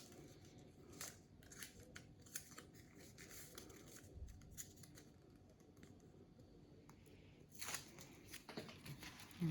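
Scissors snip through short pieces of maze wall being cut to length, a scattered run of quiet, crisp clicks and crunches up close, with a louder cut near the end in an otherwise hushed room.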